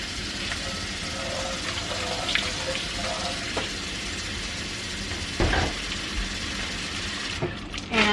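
Tap water runs from a faucet onto dry sphagnum moss being re-wetted, a steady close splashing flow with a few brief sharper bursts near the end.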